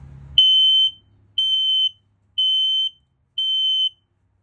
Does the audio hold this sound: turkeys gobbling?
no